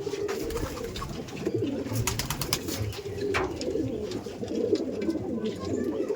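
Madrasi pigeons cooing in a loft, low repeated coos under a busy background with brief clicks and rustling.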